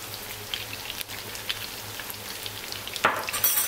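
Meatballs frying in a pan, a dense continuous sizzle and spatter like rain, with a brief stir or scrape near the end.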